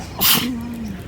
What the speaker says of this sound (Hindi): छींकती ही आई हो